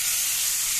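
Lentils tipped into a hot pan of cooking potatoes, a loud, close, continuous hissing sizzle lasting under a second with no voices.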